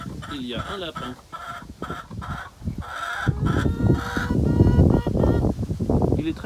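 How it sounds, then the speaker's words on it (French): Many hens in a large chicken coop cluck and squawk nearby in quick, overlapping bursts. The calls grow louder and denser toward the middle and stay lively to the end. "C'est un grand poulailler avec beaucoup de poules."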